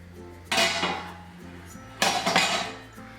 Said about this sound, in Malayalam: ഇനി ഇതിൻ്റെ അടപ്പൊന്ന് മാറ്റി നോക്കാം.